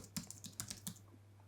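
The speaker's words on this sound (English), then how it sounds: "let's just keep typing for the moment" Keys on a computer keyboard clack in a quick irregular burst of about eight presses while code is typed, close and fairly quiet, with no talking.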